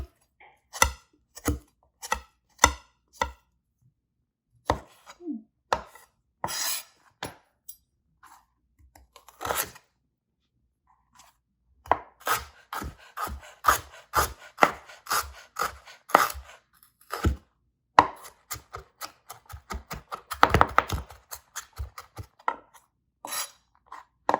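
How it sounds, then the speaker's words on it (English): A knife chops and scrapes on a cutting board as the end of a vegetable is trimmed and the skin peeled for a curry cauliflower soup, sharp separate taps in irregular bursts with quiet gaps between them. "I'm going to just cut the end off so I kind of have a stabilized end, and we're just going to peel it."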